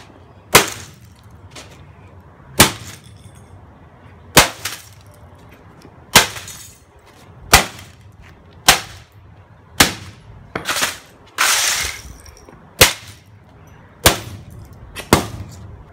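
A laptop is struck repeatedly with a tool, and each blow lands as a sharp, loud crack of breaking plastic and casing. About a dozen hits come at steady intervals of roughly one to two seconds, close up with no talking.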